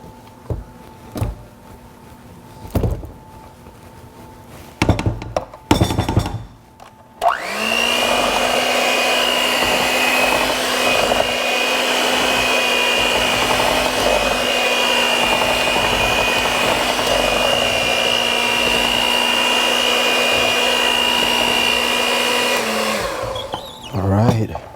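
An electric mixer churns fruit cake batter, starting after a few clanks and handling noises and then holding a loud, steady high whine for about fifteen seconds before cutting off.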